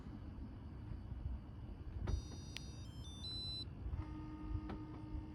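A 2012 Toyota RAV4's remote start gives a few short electronic confirmation beeps over a low rumbling background, followed by a steady faint tone.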